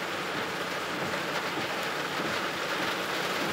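Heavy rain from a storm pours steadily in a dense, continuous hiss with no pauses, loud and close, no voices, near Brasília.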